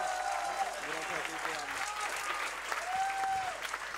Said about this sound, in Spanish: el aplauso tiene que ser más fuerte para esta transformista maravillosa